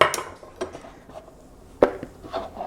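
Cut bread cubes dropped into a bowl in a home kitchen: a few soft, faint clunks and rustling taps, with sharper knocks near the start and middle, no talking.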